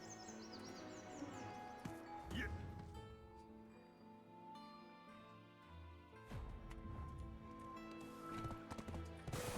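Hooves of a fast horse clop in a steady running rhythm in the online role-playing game Black Desert Online, with people talking over the game sounds and scattered bird chirps in the background.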